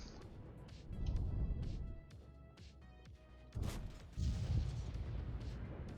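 Tank cannon fire from a Kpz 07 in World of Tanks on the Mountain Pass map, with heavy booming shots near 1 second and around 3.6 and 4.2 seconds over a continuous engine and battle rumble.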